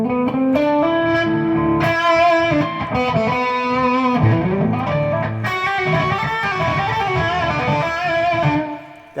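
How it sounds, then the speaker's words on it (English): Heavily distorted rock and metal electric guitar playing a natural minor (Aeolian) scale line, loud and sustained with dense, gritty harmonics, notes changing continuously with no pauses. "that is the sound of the natural minor scale"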